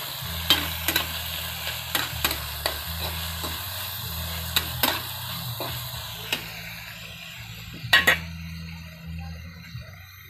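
Food sizzles in a frying pan while a utensil stirs it, giving a run of sharp scrapes and clinks over a low steady fry and hum, close by.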